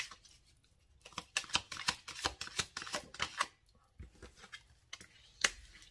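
Tarot cards are shuffled and drawn in a quiet room, making a quick series of soft, crisp riffling snaps and flicks that come in bursts close to the listener.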